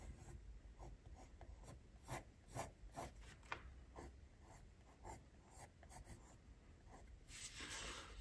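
A pencil sketches a rose on paper, making soft, close, rhythmic scratching and rubbing strokes that come in quick bursts, quiet and alone.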